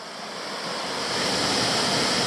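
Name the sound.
small waterfall, Canungra Falls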